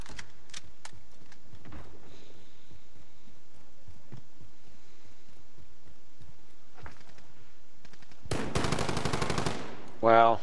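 Automatic gunfire in Call of Duty Modern Warfare, a hardcore team deathmatch on the Atlas Superstore map: scattered single shots and faint footsteps, then a loud rapid burst near the end.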